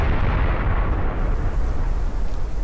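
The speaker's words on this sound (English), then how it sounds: "I think the safe zone just got bombed." Safe zone being bombed in DayZ: a loud, deep explosion rumbles continuously throughout, a heavy roar filling the low end with no talk over it.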